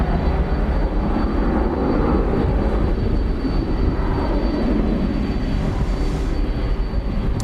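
An American Airlines Boeing 737-800 bound for San Jose rolls at DFW Airport at night, its jet engines making a loud, steady roar that stays fairly even across the whole stretch, with no talk.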